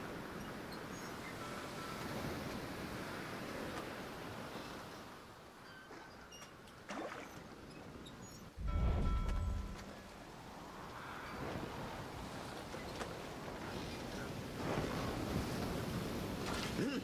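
A stormy sea and howling wind from the game Pyre surge as a broad, steady roar with swelling gusts and waves, loud and unbroken, and a heavy thump about halfway through.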